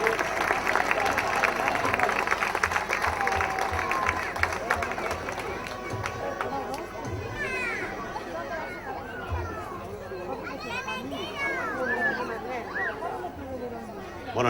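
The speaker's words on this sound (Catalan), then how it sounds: "I un fort aplaudiment per ell" Audience applause at a local radio station's tenth anniversary party in 2007, welcoming a speaker to the stage: a loud, steady wash of clapping and crowd chatter that thins out toward the end.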